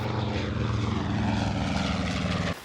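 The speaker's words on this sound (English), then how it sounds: "And aeroplanes." A propeller aeroplane passes overhead, its steady loud droning engine note filling the whole stretch before cutting off abruptly near the end.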